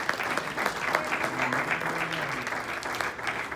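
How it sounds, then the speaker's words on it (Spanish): A church congregation applauds together, a dense, even wash of clapping filling the room, with faint voices and a low tone murmuring underneath. "Y denle un aplauso al Señor"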